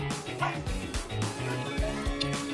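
A dog named Purumi barks in repeated sharp, territorial bursts at close range, interspersed with yips and whimpers, with a voice talking in between.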